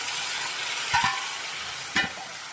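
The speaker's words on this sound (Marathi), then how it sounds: "हे बारीक केलेले मूग घालून घ्यायचे आहेत आपल्याला" Ground mung beans hitting a chilli-tomato paste in a hot pan, a steady sizzle with two brief stirring scrapes, close and alone without talk.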